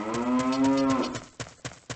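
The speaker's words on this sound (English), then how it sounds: "there's a cow in there. You can get some milk." A cow moos in the video game Zelda: Ocarina of Time, one long, loud, tonal low in-game moo lasting about a second, followed by a few short soft clicks or footsteps.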